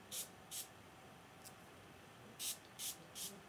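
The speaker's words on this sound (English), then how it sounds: "I'm just going to spray these two sections here" Heat protection spray goes onto clip-in hair extensions in about six short, soft hissing bursts, a pair near the start, a faint one in the middle and a quick run of three near the end, in a quiet room.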